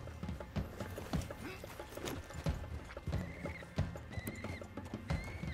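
Horse hooves clip-clop at a steady running rhythm in the video game Red Dead Redemption 2, joined by several short whinnies and neighs, fairly close and prominent over ambient game sounds.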